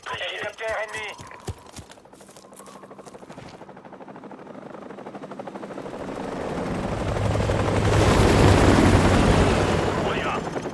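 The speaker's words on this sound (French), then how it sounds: "Hélicoptère ennemi." Enemy helicopter in the Call of Duty Modern Warfare Remastered video game, rotor thump building from faint to loud and close over several seconds, with rapid gunfire bursts and a voice speaking early on.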